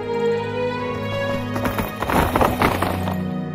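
Horse hooves clip-clopping in Skyrim, a rhythmic run of close hoofbeats that speeds up midway, with a faint whinny-like tone at the start.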